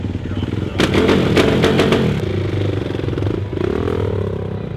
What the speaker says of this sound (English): he's out here in the show throwing backflips on motorcycles.